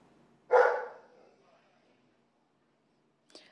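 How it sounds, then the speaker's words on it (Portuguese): A dog at a house on Rua Francisco Maioli in Londrina gives one sharp, fairly close bark that fades quickly, followed by quiet and a brief faint sound near the end. "Vocês estão ouvindo aqui um cachorro latindo"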